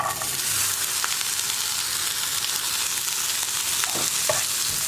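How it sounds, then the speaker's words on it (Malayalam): Carrots for a carrot and long-bean thoran sizzle steadily in a hot pan, with a continuous bright frying hiss and a few soft scraping stirs, no talking. "ക്യാരറ്റും ചേർത്ത് വീണ്ടും ഒന്ന് ഇളക്കി മിക്സ് ചെയ്യാം."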